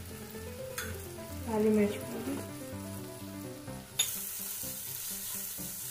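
Sabudana khichdi with red chilli powder, Maggi masala and garam masala frying in a pan, stirred with a soft scraping sizzle that runs steadily throughout, with a brief louder clatter midway and a short spoken phrase near the start.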